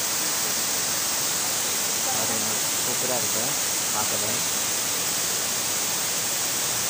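Silver Cascade waterfall in Kodaikanal pours forcefully, making a steady, broad roar of rushing water that fills the whole scene while someone talks over it.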